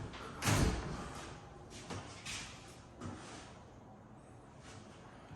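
A door swings open in a house under renovation and knocks against the baseboard, giving a single loud thud near the start. A couple of softer knocks follow over quiet room tone.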